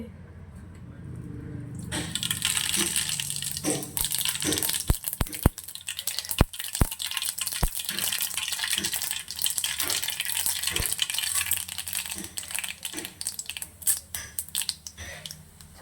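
Mustard seeds and chana dal dropped into a pan of hot oil for tempering, starting a dense, steady sizzle and crackle with sharp pops and spatters scattered throughout, fairly close and continuous after a quiet opening.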